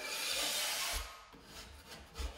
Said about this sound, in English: I like to just take my putty knife and scrape them down a little bit